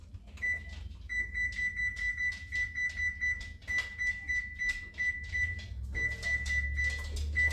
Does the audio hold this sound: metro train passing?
no